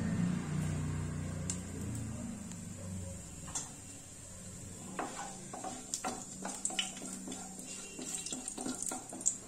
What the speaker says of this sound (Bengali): তেলটা গরম হলে একটু জিরে ফোড়ন দেব।